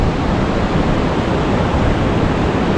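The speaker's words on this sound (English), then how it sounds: "It's making a lot of roaring sound. That's why the name is the Roaring River." The Roaring River rushes below a suspension bridge on the Dzongri trek, a loud, constant roar of churning water that fills the whole moment without a break.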